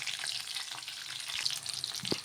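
Vegetables fry in a pan while mung dal pesarattu and chutney are being prepared, making a close, steady sizzle with light scraping and stirring sounds. No one speaks.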